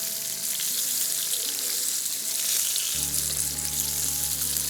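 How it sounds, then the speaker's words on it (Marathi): Hot oil poured from above onto chicken on a clay roof tile, hissing into a broad, steady sizzle that grows louder and fuller partway through, with a low rumble under it and no voices. "हे तेल जे आहे हे जमा झालेलं हे मस्तपैकी चिकनवर असं सोडूया वरतून"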